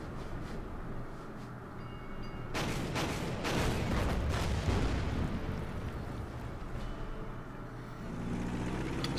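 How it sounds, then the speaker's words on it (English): Naval bombardment in the World War II strategy game Order of Battle, with a burst of heavy booming explosions and rumbling impacts building in the middle, loud and dense before easing off. "All the warships will bomb it."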